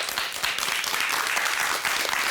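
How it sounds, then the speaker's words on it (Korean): Audience applause in a Korean TV studio before a storytelling team performs, a sustained, even patter of many hands clapping at moderate loudness. "박수로 청해 듣겠습니다"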